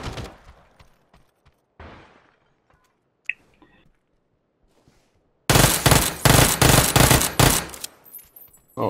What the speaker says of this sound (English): We are shooting at them.